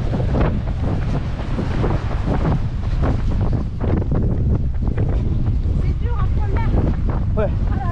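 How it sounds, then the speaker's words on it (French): Strong wind batters the microphone on a small pontoon beside a beach, a constant loud roar with buffeting gusts throughout, while people talk over it. "Je sais même pas si vous allez nous entendre, il y a tellement de vent, c'est ouf."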